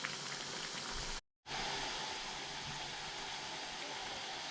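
Badusha pastries frying in hot oil over a medium flame give a steady, dense bubbling sizzle that cuts out for a brief moment before resuming at the same level.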